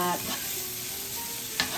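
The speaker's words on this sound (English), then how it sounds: "I'm going to just kind of start stir frying them around in" Food sizzles steadily in a hot pan while a utensil stirs it around, with a brief scrape near the end.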